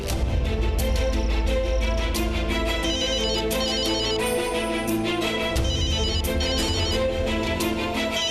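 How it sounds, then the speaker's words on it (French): An unanswered phone keeps ringing with a repeating electronic ringtone pattern, loud and steady, layered over dramatic background music with no voices. "Mais décroche donc ce téléphone."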